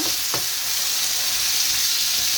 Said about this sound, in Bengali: এটা আলু ভাজি করতেছি দুপুরের জন্য